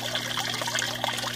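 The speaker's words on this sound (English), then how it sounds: "this actually has a pump in it to pump the water up to make the waterfall" Small pumped waterfall in a backyard pond trickling and splashing continuously, close and moderately loud, with no voices.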